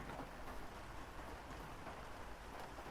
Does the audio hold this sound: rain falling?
yes